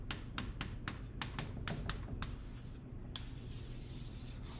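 A pen or marker scratches and taps on a writing surface as a math expression is written by hand: a quick series of short, crisp strokes, then a longer soft rub, faint and close.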